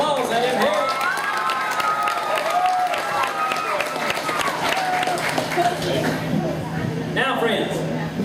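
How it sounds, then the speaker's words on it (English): An audience at a lumberjack show applauds and cheers for a performer named Tyler, with continuous clapping and whoops and a voice talking over the crowd throughout. "Y'all give Tyler another great big round of applause."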